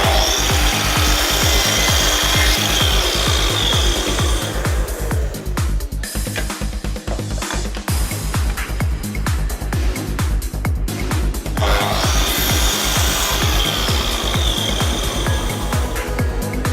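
A Festool Kapex KS 60 sliding miter saw cuts through wood with a loud, sustained motor whine and rough grinding rasp of the blade through the board, close up, dipping briefly mid-cut before resuming, without any talking.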